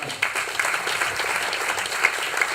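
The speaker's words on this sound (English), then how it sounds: "give them applause and see you next" Steady audience applause after a Django Channels conference presentation by two speakers, dense clapping at moderate level with a few louder individual claps, no talk.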